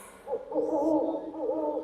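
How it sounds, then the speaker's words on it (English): An owl hooting at a night safari in Singapore, a low, wavering hoot that holds for over a second, clear and fairly close against a quiet background. "Do you know what's that bird? Owl, yes, you're Owl."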